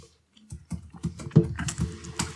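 Typing on a computer keyboard, a quick irregular run of close, crisp key clicks starting after a brief pause and continuing in bursts.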